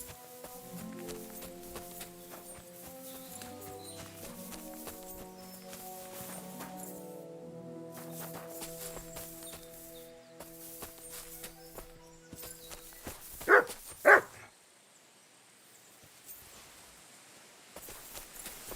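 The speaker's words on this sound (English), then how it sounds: "A horse? What's it doing here in the woods?" Horse hooves clop through the woods in the video game Kingdom Come: Deliverance II, soft repeated footfalls under a quiet musical score, with a couple of sharper louder knocks near the end before the music thins out.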